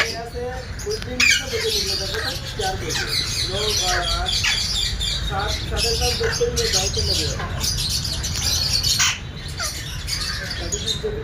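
Large parrots in an enclosure shared with ducks give a dense run of harsh, overlapping squawks near the listener, with a person talking underneath the racket.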